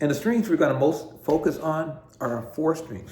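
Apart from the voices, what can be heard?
None of the usual background noises is heard.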